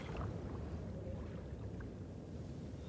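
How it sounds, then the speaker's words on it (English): A small dinghy taking on water in the video game Resident Evil 4, a steady low wash of churning water and rumble that holds evenly throughout, soft and continuous with no voices. "My boat's taking on water."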